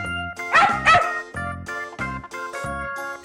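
A dog barks in a quick series of sharp, close yaps, with a faint jingle mixed in.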